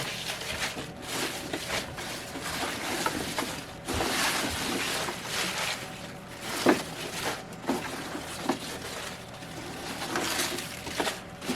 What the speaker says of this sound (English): Loud vehicle.